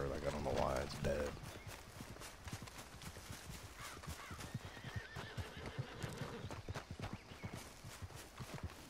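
A horse in the video game Red Dead Redemption 2 whinnies loudly at the start, then steady hoofbeats clop along over a background of rustling and faint sounds.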